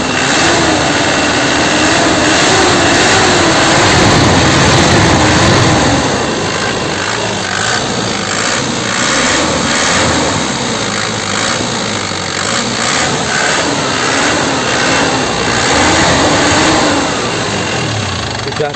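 A black 2009 Grand Touring car's engine is revved in an open-hood check, a loud, close, continuous roar that swells early then settles into a steady high-pitched drone with no speech.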